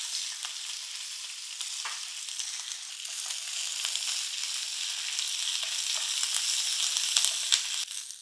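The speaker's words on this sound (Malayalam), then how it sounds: "നമ്മുടെ വീട്ടിലുള്ള നാടൻ കരിയേപ്പില തന്നെ എടുക്കണേ ഒന്ന് വറുത്തെടുക്കാം" Curry leaves sizzle and crackle in hot oil, a continuous bright frying hiss with small pops, close and fairly loud, no voices.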